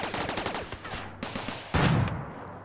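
Automated turrets fire at an enemy in the RimWorld desert game: a quick run of sharp shots, then a louder, denser burst near the end, with a steady low hum underneath.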